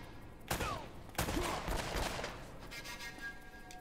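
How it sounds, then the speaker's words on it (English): Enemies fire at the player in Uncharted: Drake's Fortune, sending bursts of gunfire, two sharp loud shots, then rattling volleys that trail off into a fainter din. No one speaks. "They're shooting at you too, you know."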